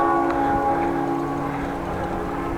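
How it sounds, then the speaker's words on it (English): Martinitoren church bells ring steadily in the distance over central Groningen, their sustained tones hanging over constant outdoor city ambience during a bike ride. "Now the bells are ringing too, but now that's because it's 11:30 almost."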